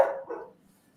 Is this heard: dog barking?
yes